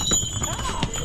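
A donkey's hooves clip-clop on a path on the island of Santorini, a few quick steps close by under a busy background of chatter and voices.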